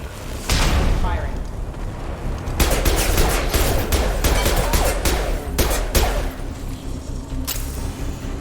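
Gunfire in Mass Effect Legendary Edition as security mechs close in, a continuous barrage of booming shots and rapid weapon bursts with sharp cracks scattered through, over a loud battle din.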